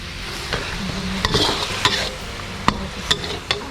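Sugar and soy sauce simmer and caramelize in a pan for a pork noodle soup, giving a dense, steady bubbling sizzle. Sharp utensil scrapes and taps strike at intervals.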